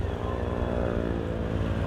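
A modern motorcycle's fairly quiet exhaust passes close by on a residential street, a steady low engine drone that holds even in loudness throughout with no talking over it.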